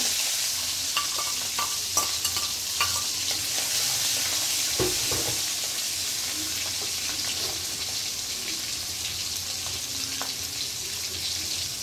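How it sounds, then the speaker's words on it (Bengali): Prawns fry in a pan for a bean and potato chachchari, giving a dense, steady sizzle with occasional close stirring scrapes and clacks. "চিংড়ি মাছটা আমি একটু ভেজে নেব।"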